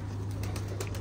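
Pigeons cooing softly in a loft of newly arrived birds, a steady low murmur with faint brief rustles that may be wing flaps, no talk.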